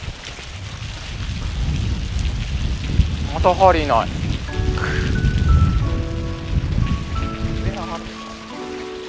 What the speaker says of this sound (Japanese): 雨止まないよ。